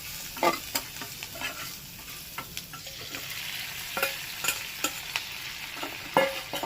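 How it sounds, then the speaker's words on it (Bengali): Dal with a fish head being fried and stirred in a pan for a Bengali puja meal: a steady low sizzle broken by repeated sharp scraping strokes of a ladle against the pan, close and clear, with no talk. "এবার এটাকে কষিয়ে নেবো মাছের মাথার সঙ্গে"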